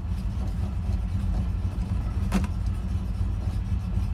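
A Ford Ranchero engine idles with a steady, close, low rumble while the transmission is moved through its gears, with one brief click partway through.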